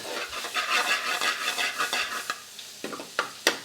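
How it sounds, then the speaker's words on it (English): Keema frying in a pan with onions, ginger and garlic, giving a steady bright sizzle with scraping stir strokes, then sharper intermittent clicks and scrapes as the stirring slows. "While that fat from the keema renders out, and it's going to just slightly golden up the onions and the ginger and garlic."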